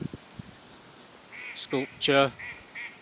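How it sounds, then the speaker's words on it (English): Noisy ducks playing at an old mill site in a country park, quacking in short bursts that build into a loud cluster, with a voice speaking briefly and faint knocks early on. "Some noisy ducks all playing"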